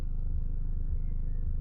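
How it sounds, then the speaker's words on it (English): A parked car idling on a quiet evening, its engine a steady low throbbing hum with an even pulsing rhythm, close and constant throughout. "they'll just be sat here with their engine running"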